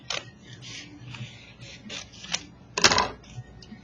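Scissors cutting out a folded sheet of paper for a symmetrical vase shape, heard as a series of close, crisp snips at an uneven pace with one louder crunchy cut near the end.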